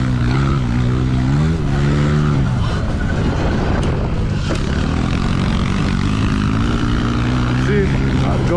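A Surron electric dirt bike climbing a hard-packed farm hill, with a loud, continuous motor whine rising and falling in pitch alongside rushing wind and tire rumble, up close throughout.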